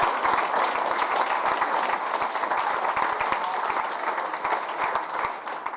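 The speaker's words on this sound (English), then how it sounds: "let's give him a massive round of applause" Sustained audience applause fills an awards conference hall, dense and steady clapping from a large crowd at close range, holding at an even level throughout with no speech over it.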